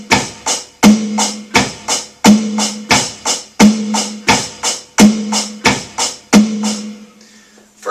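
A drum kit plays a simple beginner rock beat alone: steady, close, punchy kick and snare hits in a repeating pattern with regular cymbal ticks between them, looping evenly for about seven seconds before fading.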